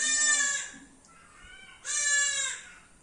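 A goat bleats twice, loud and close, with a short quieter call between the two main cries.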